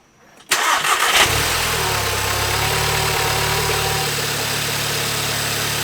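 A race car engine cranks briefly, then catches and settles into a steady, close idle with a constant low rumble.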